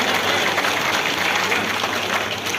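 A crowd at an outdoor election rally in Poonch claps steadily and loudly, a thick continuous wash of many hands with a faint low hum beneath and no talk on top.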